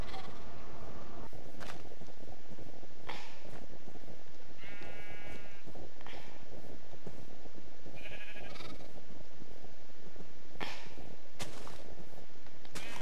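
Sheep bleat in a modded Minecraft-style survival game, several short bleats spread across the stretch over steady game background noise and scattered clicks, with no talking.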